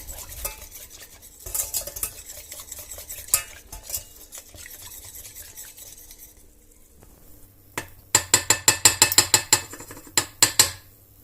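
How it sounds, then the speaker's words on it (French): Baby rice cream being stirred in a pot as it heats, with a spoon scraping and clinking against the pan, sparse at first, then quick, loud rhythmic strokes near the end, no talking. "on va mélanger pendant tout le temps de cuisson"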